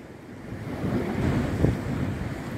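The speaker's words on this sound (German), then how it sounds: "Ich hoffe, ihr hört auch ein bisschen so das Meer." Sea surf breaking on the shore at Colonia de Sant Jordi, Mallorca, at sunrise, a steady wash of waves mixed with wind noise on the microphone, one slightly stronger surge near the middle, with no talking.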